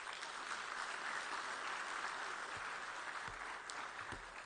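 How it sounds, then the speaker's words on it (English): Steady, continuous applause from a large audience at a summit closing ceremony, a dense wash of clapping that holds for the full stretch at moderate loudness with only a few thumps. "kindly give him a warm round of applause"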